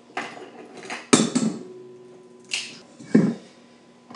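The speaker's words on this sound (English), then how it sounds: "first thing, you got to crack the eggs" Eggs are cracked against the rim of a mixer bowl, giving a few sharp, close knocks and taps with brief ringing clinks, separated by short quiet gaps.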